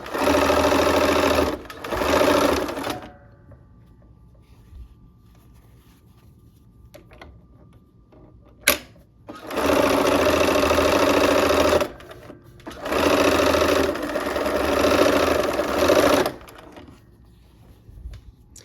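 A sewing machine chain-pieces quilt blocks with light gray thread, running in loud steady bursts of a few seconds each, separated by quieter pauses and a sharp click.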